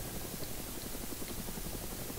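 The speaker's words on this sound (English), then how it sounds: "That is a Black Hawk" A Black Hawk helicopter in a video game gives a steady, rhythmic rotor thump over a broad wash of engine noise, moderately loud and continuous.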